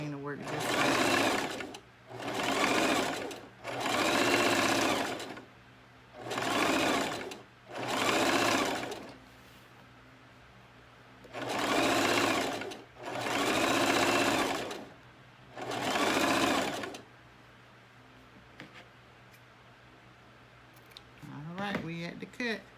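Domestic sewing machine stitching fabric in short bursts, eight runs of steady whirring motor, each one to two seconds long, separated by brief pauses, close and clear, with a faint low hum between bursts.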